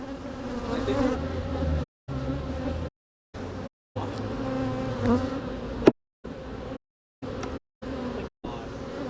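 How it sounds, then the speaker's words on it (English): A loud, close, steady buzz of bees in an outdoor catio setting, broken by several abrupt gaps where it cuts out and resumes. "That's how you get the bees up"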